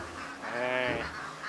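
Ducks in a duck pen quack noisily, a burst of nasal honking calls that swells in the middle and stays close.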